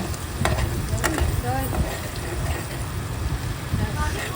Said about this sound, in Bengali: এবার একটু ভালো করে কষিয়ে আদা রসুনটা কষিয়ে